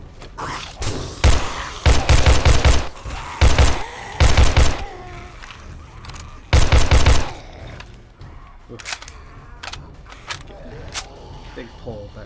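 Video game gunfire: repeated loud bursts of automatic fire, several short volleys close together, with someone talking over and between them.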